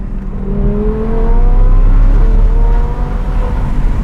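Loud, continuous engine roar from an Audi R8 V10 Plus in performance mode, fitted with a tuned center exit exhaust based on the Huracan Performante, swells in pitch early, then settles into a sustained drone without speech.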